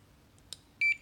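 A library reader card is scanned at a self-service checkout station, giving a short electronic beep that stands out clearly against a quiet room, with a couple of faint clicks just before it.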